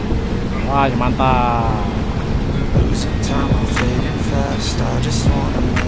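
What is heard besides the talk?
ferry propeller turning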